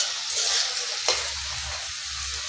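Nimki dough, rolled out and cut into pieces, frying in hot oil with a steady, close, loud sizzle and a brief stir midway.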